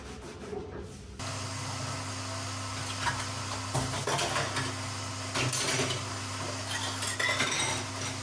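Dishes and cutlery clink and rub at a kitchen sink over a steady running-water hiss, with scattered scraping and knocks close by; no one speaks.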